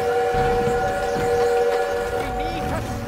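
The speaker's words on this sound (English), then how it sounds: "We need to stop that train!" A train in the Call of Duty WWII campaign sounds a sustained, loud whistle-like tone over rumbling rail noise. The tones hold steady and slide near the end, with game action and voices mixed underneath.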